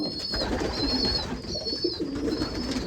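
Pigeons coo in an aviary, with soft, throaty cooing close by and repeated whistling notes above it, all over a constant murmur of birds.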